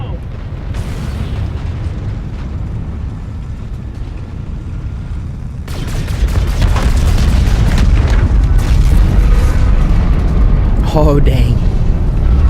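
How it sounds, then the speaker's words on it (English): A tower detonation in Call of Duty: Infinite Warfare, a heavy rumbling explosion that swells and holds as a loud low roar with debris crackle, while a voice speaks briefly. "Let's get visual on that tower detonation."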